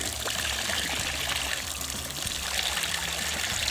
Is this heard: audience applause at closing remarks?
no